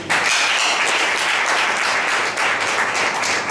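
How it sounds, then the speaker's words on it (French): Wedding guests at a civil marriage ceremony in Cotonou applaud the civil registrar, a loud, dense burst of clapping from a full room that holds steady for several seconds. "que je vous demande encore d'applaudir"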